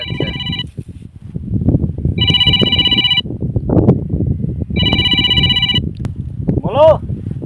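A telephone ringtone sounds in two loud repeated bursts close by, with someone talking over and between the rings and light wind noise in the background.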